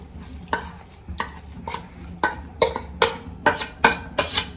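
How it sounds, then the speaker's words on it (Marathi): Grated coconut fries in hot ghee over a low flame for modak filling, stirred with a series of regular scraping strokes across the pan that grow quicker and louder, over a faint sizzle. "तूप आपलं गरम झालेलं आहे याच्यामध्ये मी टाकून घेत आहे नारळाचं किस"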